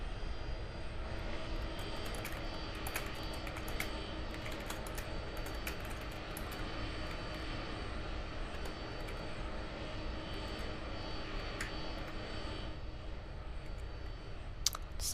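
Aircraft engines drone in the Aeronautica flight game during a fast final approach to a runway, a steady, constant roar throughout with scattered keyboard clicks over it.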